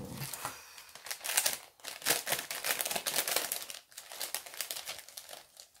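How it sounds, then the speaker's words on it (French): Paper gift wrapping being torn open and crumpled around a present, a near, busy run of crinkling and ripping bursts that keeps going with short pauses. "Je vais le déballer."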